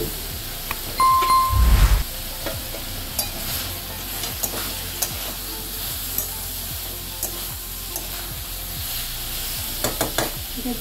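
Slit green chillies crackle and sizzle in mustard oil in a pan, a brief louder clatter of utensils early on, then a soft steady frying hiss with scattered pops; no talking.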